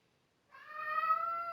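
A pet cat gives a single clear, drawn-out meow close by, rising in after a brief silence and holding steady to the end.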